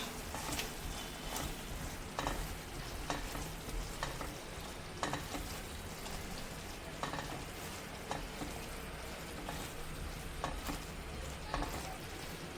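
Channa masala gravy simmering in a pan with steady soft bubbling and sizzling, and occasional sharper clicks of stirring over the continuous cooking noise, close and moderately quiet.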